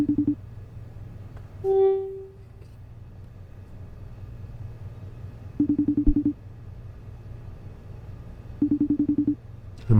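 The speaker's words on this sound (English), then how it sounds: "Somebody's FaceTiming." FaceTime video call ringing in a horror video game, short repeated bursts of ringing tones separated by pauses, with a brief tonal chime early on over a low background hum.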